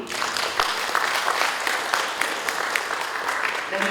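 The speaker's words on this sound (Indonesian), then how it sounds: "tepuk tangan untuk kerjasama ini" A crowd at a symposium in a hall applauds steadily for several seconds, dense clapping from many hands at moderate loudness with no voices over it.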